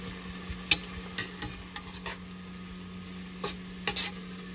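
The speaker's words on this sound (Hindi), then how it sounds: "इस अनियन ऑयल में जब ये अनियन और फ्राई हो रही हैं" Onions frying in oil in a pot while cooking a caramelized onion chicken korma: a soft steady sizzle with occasional clinks and scrapes of a stirring spoon against the pan.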